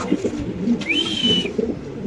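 Soft, low cooing from Pakistani Black Danish pigeons repeats a few times close by, with a brief higher bird call in the middle.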